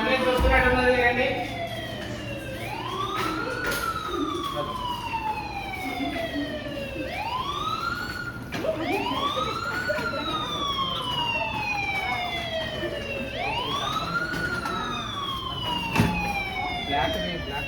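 An ambulance siren at a hospital Code Yellow mock drill wails in repeated rising and falling sweeps, loud and sustained, while people talk underneath.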